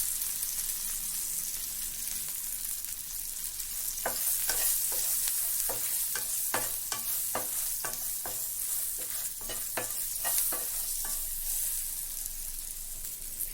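Turmeric is stirred into green chillies frying in a pan: a steady sizzle runs throughout while a spoon scrapes and stirs in quick repeated strokes through the middle stretch.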